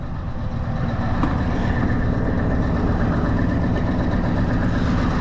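A truck engine revving up, a loud, steady low rumble that holds constant throughout with no talk over it.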